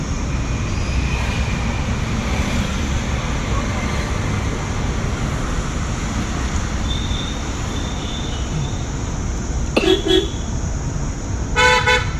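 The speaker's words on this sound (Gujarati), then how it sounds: "હોર્ન મારતા રહેવાનું લાગે ને ત્યાં" Steady road rumble from inside a moving car, then two short car horn honks near the end, the second slightly longer.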